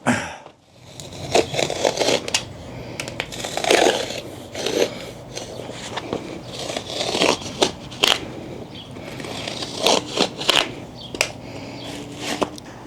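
Mud flap material for a Jeep JKU is cut in a straight line, heard as close, irregular crackling and snipping scrapes in uneven bursts, with brief pauses between cuts.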